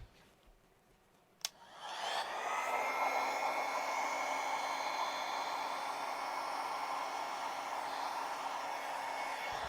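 A steady, loud whooshing stream of air blown onto wet red paint to spread it across a surface, starting after a brief quiet moment with a sharp click, then holding on continuously until the end.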